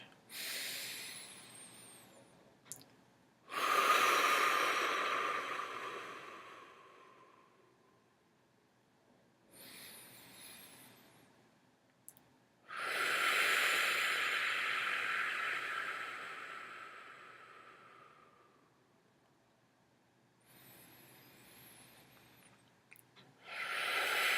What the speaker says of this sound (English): we're going to do 3 breaths in through the nose and out through the mouth